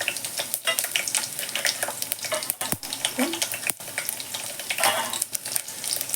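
Crushed garlic, cumin and mustard seeds fry in hot oil for a tempering, giving a steady, close crackling sizzle broken by several sharp pops and stirring clatters, with no voices.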